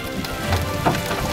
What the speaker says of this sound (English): Hail is coming down,